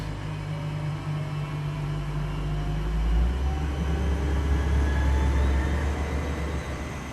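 Cessna Caravan turboprop departing Cairns Airport, heard from inside the cabin as a steady, loud engine drone with a deep low rumble that swells slightly partway through the climb-out.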